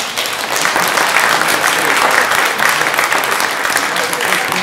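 An audience at a Dearborn open mic show bursts into loud, sustained applause with cheering that fills the whole stretch evenly, close and dense, with no single voice standing out.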